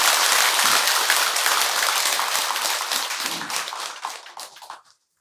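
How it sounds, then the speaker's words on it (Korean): An audience at a Buddhist temple dharma talk, during a special ceremony at Beomeosa, breaks into a burst of dense hand clapping that holds steady and then tapers off to silence within about five seconds. "스님 생각이 맞으면 박수 한번 쳐보라고."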